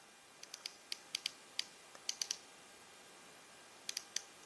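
Wera KK 60 RA ratchet screwdriver ratcheting in short bursts of sharp, crisp clicks, close and fairly quiet, with brief pauses between groups.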